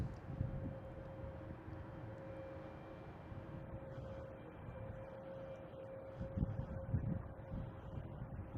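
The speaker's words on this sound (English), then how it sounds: "We have an A220 JetBlue coming in" A JetBlue Airbus A220 airliner arrives at Boston Logan International Airport: a faint, distant, steady jet rumble with a low drone, swelling slightly toward the end, with no talk.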